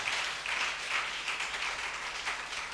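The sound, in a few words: congregation applauding and cheering the Lord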